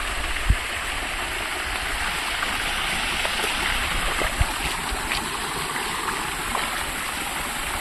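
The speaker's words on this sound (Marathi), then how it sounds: "धबधबा किती चांगला आहे" Steady rushing water roars without a break, a broad continuous wash with a few faint knocks and splashes on top.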